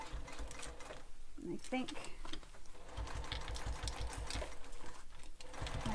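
A sewing machine hums and rattles close by as it stitches a backpack, running steadily with brief pauses while someone talks over it.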